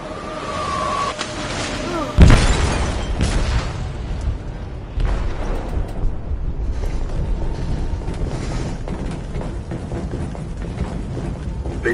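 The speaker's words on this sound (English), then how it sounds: "Detonated an explosive in the hold." A detonated explosive goes off in a ship's hold in the video game Detroit: Become Human. One loud, sudden boom hits near the two-second mark, then a heavy, rolling rumble carries on underneath to the end.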